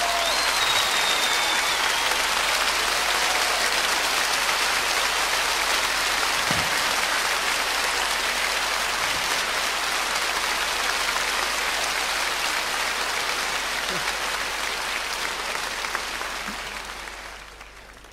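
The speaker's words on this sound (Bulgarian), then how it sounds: "Вашите аплодисменти за него!" Sustained applause from a large concert audience, steady and dense throughout, tapering off at the very end.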